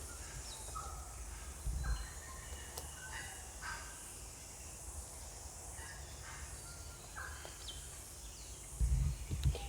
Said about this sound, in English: So you listen to the birds we've got in the background now.